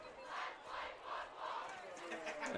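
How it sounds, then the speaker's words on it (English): High school football crowd at a Homestead versus Carroll game, chanting together in swelling rhythmic waves of many voices, loud and steady from start to finish. "this may be the best chant in all of high school sports"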